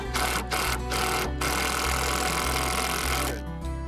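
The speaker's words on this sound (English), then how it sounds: "And then we take and add screws in the redwood mud sills, and Gary's going to put one in right here." A power driver sinks screws into redwood mud sills on a greenhouse concrete form, giving a steady mechanical whir broken by short pauses and bursts as the screw bites.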